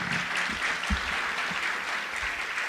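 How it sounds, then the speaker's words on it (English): A gala audience in a temple auditorium claps hard for a team of volunteers, a full, sustained round of applause with a few heavier thumps mixed in. "Our volunteers deserve a big round of applause"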